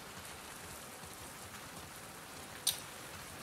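Soft, steady rain in The Last of Us Part II makes a faint even hiss of falling drops, broken once by a brief sharp click.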